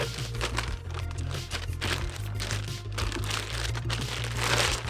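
Massage gun case being pulled from its tight-fitting box, a run of close crinkling and crunching cardboard and packaging scrapes with uneven bursts, no talking.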